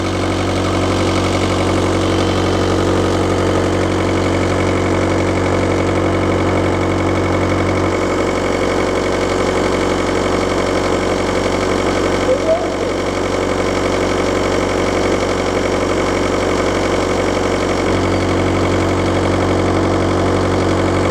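A Volkswagen Caddy van's BKD turbo diesel engine idles loud and close from underneath, a steady knocking diesel drone with a deeper tone that shifts partway through and then returns.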